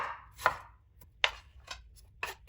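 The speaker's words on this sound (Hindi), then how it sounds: "ये इसकी भी कटिंग करके वैसे ही हम इसको भी डाल देंगे" A knife chops cabbage on a board in a home kitchen, with four or five crisp, separate cuts spaced irregularly, close by and quiet, with no voices.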